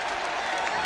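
A crowd at a college basketball game between Akron and West Virginia roars with dense cheering and clapping, loud and continuous, while a voice talks over the noise.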